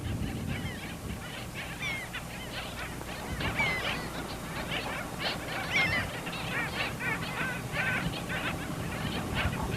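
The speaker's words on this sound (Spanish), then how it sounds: "El pájaro rayador es una de las aves más interesantes que viven en la orilla del río." A flock of black skimmers calls on a sandy riverbank beach in Peru's Manu reserve, with many overlapping nasal, goose-like yaps and barks at steady moderate loudness for the whole stretch.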